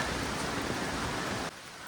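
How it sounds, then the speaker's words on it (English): Steady rain falling under a forest canopy at dusk on a border track in southeastern Queensland, a dense close hiss that drops off sharply near the end, with no voices. "And it's still raining."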